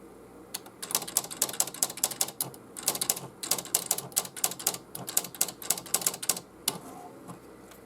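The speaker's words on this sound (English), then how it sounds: "Hold on 1 second, I gotta type this." Rapid bursts of typewriter-like key clatter, close and fairly loud, with irregular rhythm and brief pauses between runs of strokes, alone without talk.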